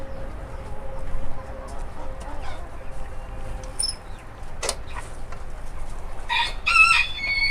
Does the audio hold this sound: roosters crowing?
yes